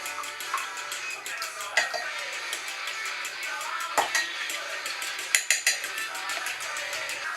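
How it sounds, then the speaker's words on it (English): Eggs being whisked in a bowl, a steady scraping clatter of whisk against the bowl with a few sharper clinks, close and alone. "Whisk your eggs up."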